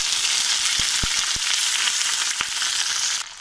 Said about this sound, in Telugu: ఆనియన్ కరివేపాకు వేసుకుంటున్నామండి.